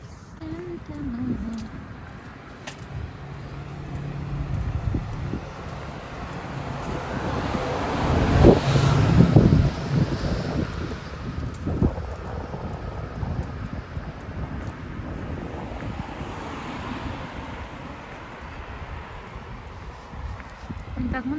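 Strong wind on a road buffets the microphone in a steady roar that swells loudest midway, with rumbling gusts throughout.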